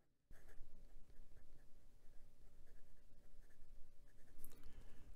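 A Penbbs 456 fountain pen with a fine steel nib scratches across Clairefontaine 90 gsm paper in soft, close strokes with small rhythmic scrapes and pauses, faint and continuous under a quiet room.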